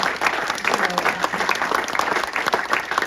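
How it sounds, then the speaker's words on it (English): A crowd at a public health announcement event applauds, a dense, steady clatter of clapping hands that carries on for a few seconds. "just a round of applause for 16th Street for hosting us today"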